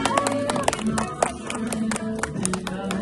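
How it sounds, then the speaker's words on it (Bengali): A small group claps at an anniversary celebration in Santiniketan, with quick, uneven rhythmic hand claps close by under light background talk and voices. "সবাই হাততালি দাও।"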